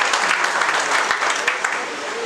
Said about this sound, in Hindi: मैं चाहूंगा एक बार उनके लिए भी आप तालियां बजाएं।